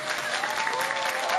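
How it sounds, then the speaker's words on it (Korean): An audience gives dense, continuous applause right after a gugak pansori performance. Many hands clap evenly at a steady level through the whole stretch. "이제 박수를 치시면 됩니다."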